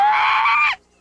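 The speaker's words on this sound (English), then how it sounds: "Somebody screamed!" Cartoon scream, a single loud, high, sustained shriek lasting under a second that cuts off abruptly, alone with no other sound.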